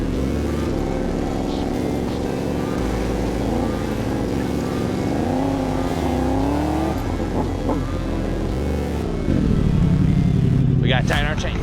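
A three-wheeler fitted with a swapped motorcycle crotch-rocket engine runs loudly up close, its revs rising and falling throughout, with a sharp rev burst near the end and voices talking over it.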